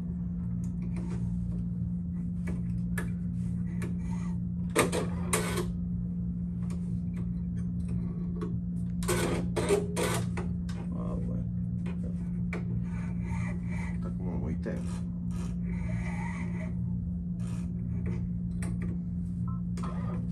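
A Brother Persona embroidery machine stitches a cap, its steady motor hum running throughout under a rapid rasping, ticking needle action, with occasional brief louder clatters.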